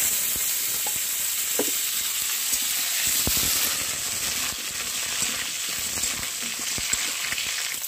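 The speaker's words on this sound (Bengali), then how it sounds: "তেল গরম হয়ে গেছে আর আলুগুলোকে আমি এখন ভেজে নিচ্ছি।" Potatoes fry in hot oil with a steady, dense sizzle that stays loud and even from start to end, broken only by a few faint clicks and stirring knocks.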